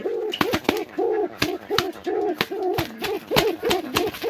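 Pigeons in a home loft full of eggs and chicks coo in repeated low, rolling calls, a nearby bird giving a steady rhythmic series interspersed with sharp clicks and flutters.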